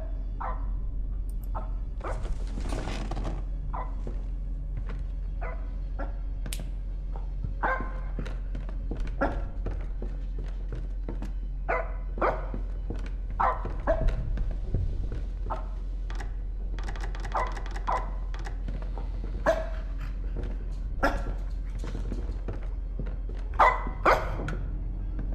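Dog barking in a horror video game: repeated short barks scattered through the clip over a low steady hum, with clicking keyboard-like taps between them.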